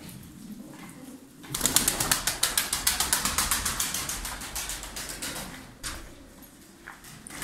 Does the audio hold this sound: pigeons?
yes